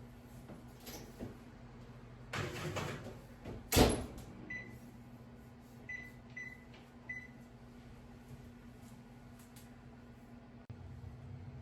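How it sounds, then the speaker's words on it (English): An oven door opening and closing as a cake goes in to bake at 350 degrees, a few knocks and one sharp thud over a steady appliance hum, followed by several faint electronic beeps. "Now I'm going to stick this in my oven of 350 degrees for 30 minutes of baking"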